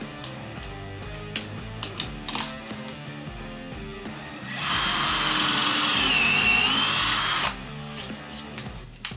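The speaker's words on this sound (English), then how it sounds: "Starting with the drill drive tool." A combo drill driver tool bores a counterbored hole into wood, a loud steady whine lasting about three seconds that stops abruptly, with quieter handling and soft background music around it.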